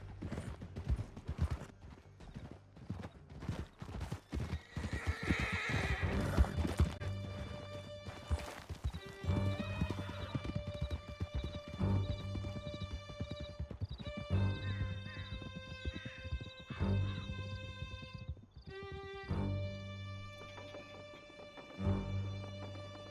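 Horses galloping hard through a canyon in Red Dead Redemption 2, dense rapid hoofbeats with repeated neighs and whinnies, creaking tack and a steady musical score underneath.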